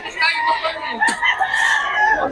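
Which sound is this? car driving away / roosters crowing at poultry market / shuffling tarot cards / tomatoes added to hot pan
roosters crowing at poultry market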